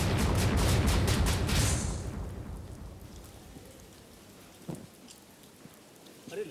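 Heavy rain pours down at night with a dense steady hiss. It eases after a couple of seconds into a quieter patter, broken by a few sharper knocks.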